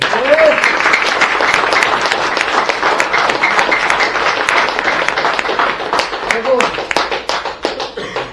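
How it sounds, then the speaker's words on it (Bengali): A workshop audience at a health seminar bursts into loud, sustained clapping that fills the room for the whole stretch, with a voice faintly heard under it. "জোরে হাত তালি দিন।"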